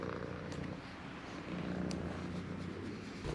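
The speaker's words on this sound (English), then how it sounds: "The purrs are here." Soft, low cat purring rumbles steadily throughout, faint and close, with light rustling over the top.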